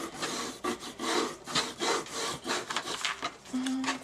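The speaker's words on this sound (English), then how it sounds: "Fold it in and give it a nice rub with your bone folder." Bone folder rubbed and burnished over folded chipboard for a cover, making repeated scraping strokes in bursts of about half a second, close and fairly loud, with no talking.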